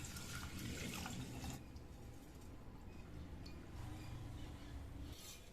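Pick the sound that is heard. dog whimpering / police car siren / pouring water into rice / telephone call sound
pouring water into rice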